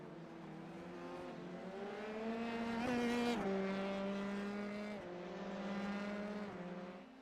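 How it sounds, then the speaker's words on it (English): Formula 3 open-wheel race cars in a racing video game roar past with high, rising and falling engine whine, loud and continuous, peaking midway as they rattle over the curbing. "listen to how aggressively the cars are hitting the curbing here"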